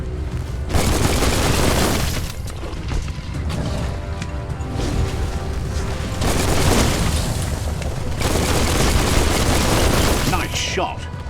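Gunfire in the video game Biomutant, a loud, continuous barrage of booming shots and bursts running throughout, with dense repeated blasts and a brief voice near the end.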